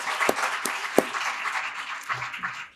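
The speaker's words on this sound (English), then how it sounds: "Let's give them another round of applause." Audience applause for a panel at a legal forum, a short burst of clapping with a few sharp, close claps standing out before it tapers off.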